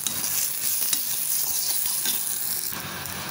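Sliced onions fry in a hot pan with a steady bright sizzle, close and fairly loud, with light stirring scrapes and no talk.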